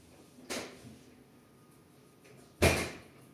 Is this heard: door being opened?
yes